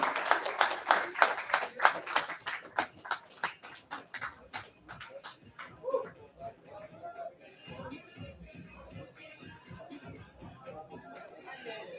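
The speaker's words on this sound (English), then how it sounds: "Round of applause for all the fighters," Audience applause for the fighters at a boxing weigh-in, a burst of clapping for the first few seconds that thins out and fades into crowd chatter and shuffling.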